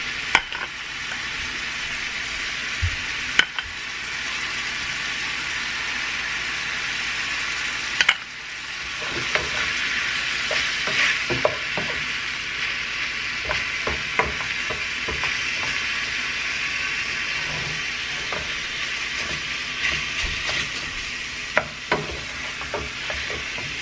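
Ground beef searing in a hot pan with dry spices, a loud continuous sizzle with intermittent scraping and clicking as the meat is stirred, and no talking.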